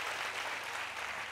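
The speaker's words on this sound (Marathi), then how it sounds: "तुम्ही एवढ्या भरभरून टाळ्या दिल्या आहेत" Audience applause at a live stage show, a brief steady wash of clapping from a crowd with no voices over it.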